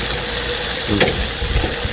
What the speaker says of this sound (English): Gotta love the sizzle.